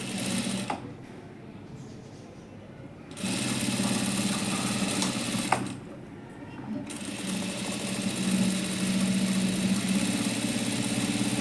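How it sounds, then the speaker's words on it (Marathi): A sewing machine runs a double line of stitching on a blouse piece. Short, close, humming bursts are separated by brief pauses, followed by a longer, steady run of stitching. "त्याच्यावर डबल शिलाई मारून घेते."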